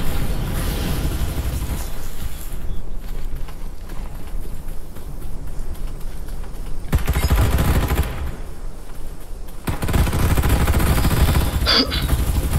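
Dense bursts of rapid gunfire and explosive blasts from Farlight 84, nearly continuous and loud, with a brief metallic ping near the end.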